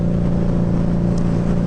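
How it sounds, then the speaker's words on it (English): 2015 Harley-Davidson Night Rod Special motorcycle engine running at high revs, a brief, steady, loud drone with no talk. "It's a high revving bike."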